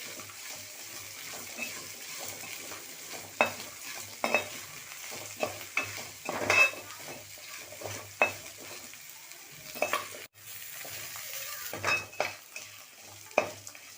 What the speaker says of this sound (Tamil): சேர்த்து நல்லா மிக்ஸ் பண்ணி விட்டுருங்க. ஒரு 5 நிமிஷம் நல்லா வணக்கிக்கலாம்.